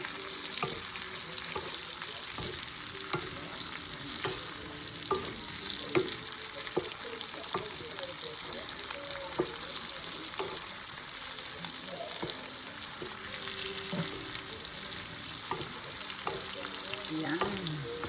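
Pork, mushroom and zucchini sizzle steadily in a pan while a utensil scrapes and stirs through them in repeated strokes, close and continuous with no talking.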